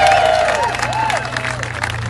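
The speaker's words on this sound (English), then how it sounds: "So give yourselves a big round of applause." An audience at a Texas Senate Democrats gathering in the Massachusetts Statehouse claps steadily, a continuous, moderately loud patter of many hands, with a few sustained whistle-like tones rising over the crowd.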